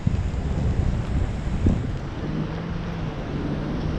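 Wind gusting across an open microphone near a downtown fountain in Echo Park, a steady low buffeting rumble that swells and eases without pause, with no voices.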